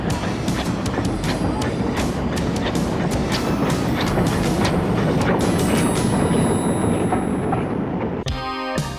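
Steam locomotive number 30072, a Southern Railway USA tank engine, pulls into Oakworth station on the Keighley and Worth Valley Railway during a spring shower, with loud continuous rumbling and rhythmic wheel clatter, ending in a brief squeal.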